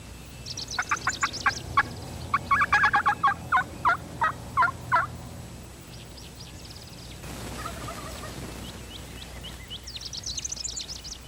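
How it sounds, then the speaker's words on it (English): Wild turkey gobblers in spring, accompanied by hens, gobble in rapid rattling bursts at a moderate distance outdoors, with softer calls and clucks between the gobbling. "These gobblers have hens."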